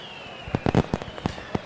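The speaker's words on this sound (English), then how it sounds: "Some fireworks happening out beyond the left field bleachers here in Toledo." Fireworks bursting beyond the left field bleachers at a baseball game in Toledo: a rapid string of sharp pops and bangs, loud and close together, over steady crowd ambience.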